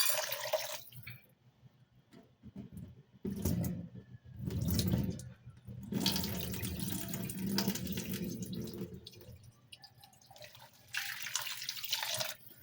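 Tap water runs into a sink during cleaning in bursts, splashing and gushing with short pauses between, fairly close and moderately loud, with no talking.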